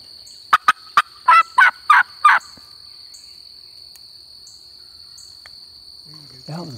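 Wild turkeys in a Georgia clear-cut gobble in a rapid rattling series of loud, distinct gobbles lasting a couple of seconds, over a constant high insect drone, followed by quiet.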